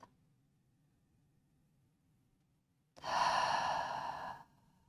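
A deep breath during a restorative yoga session: near silence, then one long, audible exhale of about a second and a half, close and breathy, fading out cleanly.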